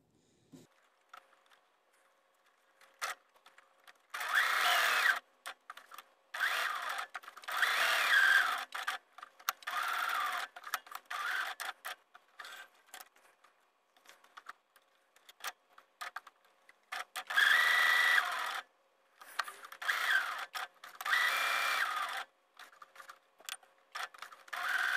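Sewing machine stitching around the edge of a notebook made from used envelopes, running in several bursts of steady mechanical whirring with short pauses between passes.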